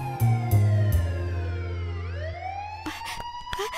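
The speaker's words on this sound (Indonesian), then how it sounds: "Saat itu terdengar suara sirine mobil polisi mendekat." A police siren wails and sweeps in pitch, growing stronger as it approaches, over a low steady hum with a few sharp knocks.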